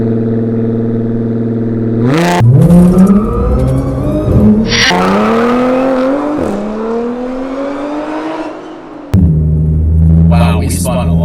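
Tuned Audi S4 on an 034 Motorsport E40 tune launching hard with wheelspin: a loud engine surges up through the revs while the tires squeal, then a gear change and more climbing revs, close and dominant.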